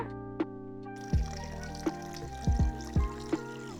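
Homemade almond milk mixed with water, poured and strained in a home kitchen: a thin trickling stream with a low ringing, broken by several soft plops and splashes, fairly quiet and with no talking.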